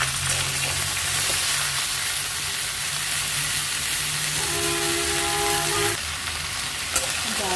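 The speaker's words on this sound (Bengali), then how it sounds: "ফোড়নটা ভাজা হয়ে গেলে সবজিগুলো দিয়ে ভালো করে ফ্রাই করে নেব।" Gourd, pumpkin, eggplant and pointed gourd fry in a pan after a five-spice tempering, a loud steady sizzle running throughout, with stirring scrapes and a brief hum near the middle.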